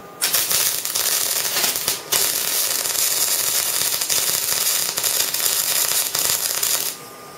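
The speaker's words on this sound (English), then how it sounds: "It's just, it's a lot brighter than when you're using your plasma cutter." A plasma cutter slicing through metal gives off a loud, steady hissing roar. It cuts out briefly near two seconds, picks up again, then drops away just before the end.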